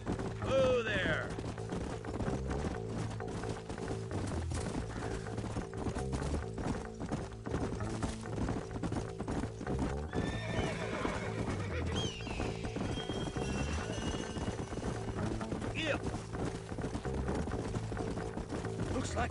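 Horses gallop and neigh in the Red Dead Redemption video game, steady hoof clip-clop with a whinny, set under a background score with distant game sounds at low level.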